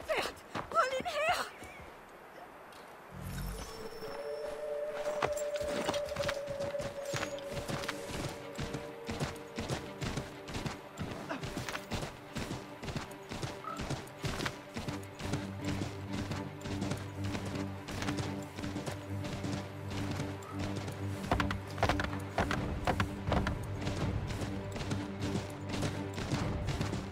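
Rapid, steady hoofbeats of a galloping horse in Assassin's Creed 3 pound through a busy game soundscape, with music and other effects layered over the rhythm.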